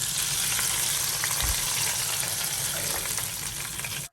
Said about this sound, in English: And now we add our palm oil and caramelized onions.